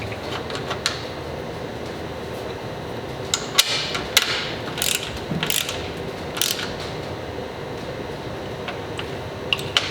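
A ratchet wrench clicks and clanks while turning a bolt on the flat bed of an XP camper, giving irregular metallic taps and scrapes over a low background hum.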